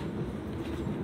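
Brand new train rolling on rails, a steady close rumbling clatter of wheels with no distinct beats, continuous and fairly loud for about a second.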